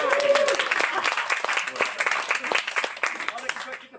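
Wedding guests applauding the best man at the reception, a room full of dense clapping that fades toward the end, with some voices mixed in.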